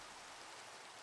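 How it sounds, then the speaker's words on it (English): Minecraft rain falling as a steady, even hiss, faint and continuous with no breaks or distinct drops. "Why does it always rain on me?"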